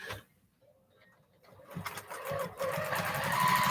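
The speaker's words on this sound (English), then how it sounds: "This machine is doing very good on free motion sewing like this." A domestic sewing machine doing free motion quilting starts up after a quiet pause, its needle chattering into a steady, loud, rapid mechanical run.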